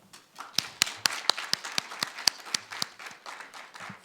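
At a Korean university forum, a small audience gives light applause after a staff member's presentation: sparse, distinct claps, fairly quiet, each sharp hit standing apart in a loose, uneven rhythm.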